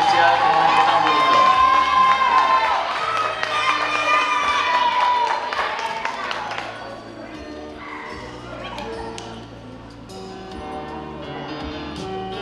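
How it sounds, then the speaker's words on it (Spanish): Loud cheering and applause from guests at a quinceañera waltz, a crowd roar mixed with shouts under music that swells, then quiets to a lower murmur with scattered claps. "fuertes aplausos por un momento tan especial, un momento tan bonito"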